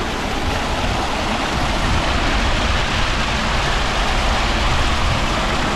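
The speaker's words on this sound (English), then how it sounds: "the sun is playing, and the water is actually fast from here" Fast-flowing stream water in Ballıkayalar nature park near Gebze, Kocaeli, a loud, steady broadband rush that fills the whole stretch without pause, heard up close with no talking.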